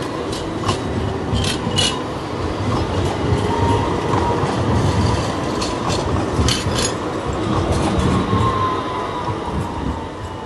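A tram rolls through a station in Istanbul, its steady rumble and rhythmic clickety-clack of wheels on rails running continuously and close, with periodic higher squeals and rattles on top.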